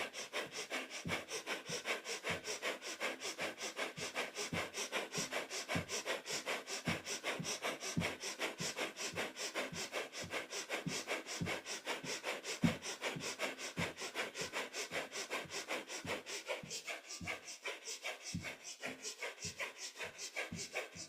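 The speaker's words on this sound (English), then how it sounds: "Keep that breath of fire going." Rapid rhythmic breath of fire in kundalini yoga, a steady train of sharp nasal sniffs roughly twice per second, close and continuous with no talking.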